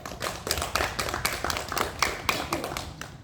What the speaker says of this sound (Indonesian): tepuk tangan untuk pihak